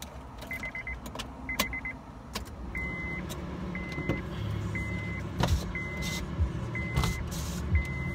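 Power windows on a car whir down in several short motor runs, with faint clicks and small interior clunks between them inside a quiet cabin.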